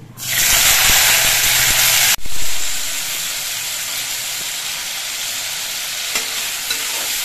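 Chana is tipped into hot oil with mustard seeds and dried red chilli, setting off a loud sizzling hiss that cuts off sharply, then settles into a quieter steady fry with faint stirring clinks.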